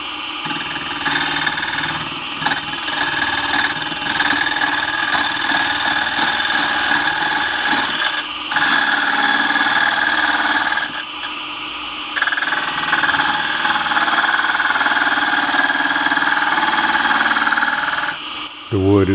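An exhaust fan runs in a woodturning workshop while dry, dusty cherry is turned, giving a loud, steady broadband whir with a few brief dips in level.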